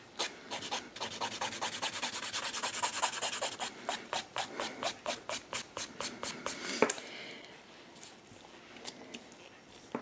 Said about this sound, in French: je vais venir limer pour enlever toutes les bosses et les imperfections